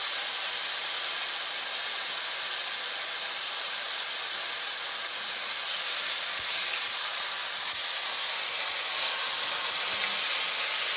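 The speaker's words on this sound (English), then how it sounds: "we're going to apply our pork to get it nicely brown" A pork chop sears in a hot pan, giving off a steady, dense sizzle and hiss that holds even and close for the whole stretch, with no voices over it.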